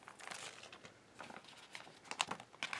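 Plastic bag crinkling faintly as small items are packed into it, soft irregular rustles and crackles, with a few sharper crinkles near the end.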